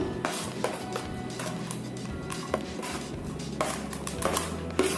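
A spoon stirring rice flour dhokla batter with turmeric and sugar, making repeated light taps and clinks against the bowl over a soft steady scraping, close and moderately loud, with no speech.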